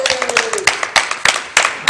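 A handful of people clapping in a theatre rehearsal as the curtain closes, sparse uneven claps close by, a short burst rather than a full ovation.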